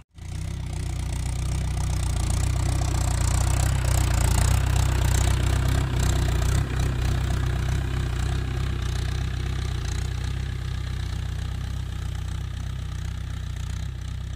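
A Mahindra tractor engine runs loud and close while a cultivator ploughs a farm field, a continuous, heavy, throbbing drone that holds steady with slight variations throughout.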